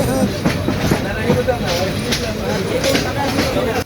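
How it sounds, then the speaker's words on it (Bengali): A night passenger train pulls out of a station bound for Sylhet, with a steady rumbling rail roar and faint clicking of wheels throughout, loud and close, mixed with a murmur of voices. "রাত দশটা দশ মিনিটে আমাদের ট্রেনটি ছেড়ে দিল সিলেটের উদ্দেশ্যে"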